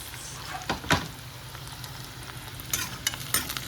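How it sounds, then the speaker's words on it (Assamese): Steady sizzling of onions and chillies frying in hot oil, with a few scrapes of a spoon stirring the pan. "পিঁয়াজ জলকীয়া একেলগতে ভাজি আছোঁ"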